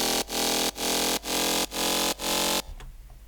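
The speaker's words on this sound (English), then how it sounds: "So the bass on its own sounds like this." A pitched-up synth bass patch from Serum plays alone in five sustained, evenly spaced notes with brief gaps, loud and bright, then cuts to near silence.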